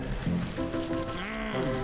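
A sheep in the video game Wytchwood bleats in a long, wavering, close call that fills the moment, with a second quavering bleat right after.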